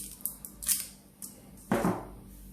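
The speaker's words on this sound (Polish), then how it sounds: "Zobaczcie, izolacja nam schodzi ładnie." An electrician's stripping tool cuts and peels insulation from an electrical cable: a few sharp close snips and clicks, then a louder scraping rasp as the sheath slides off, with no talk.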